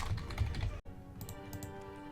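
Keys on a computer keyboard clatter in quick bursts of typing, close and fairly soft, pausing briefly before lighter, scattered keystrokes resume.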